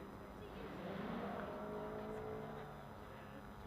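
A race car climbs the Loton Park hill climb course, engine note steady and fairly distant as it drives along the straight, heard under ongoing commentary from a live announcer.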